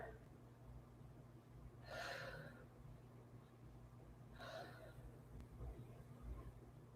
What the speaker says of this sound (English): Just take a few breaths here.